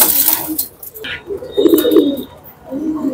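Pigeons at a breeder's loft in Krishnanagar, Nadia give a few low, soft coos close by, with brief pauses between calls and some other bird chirps in the background.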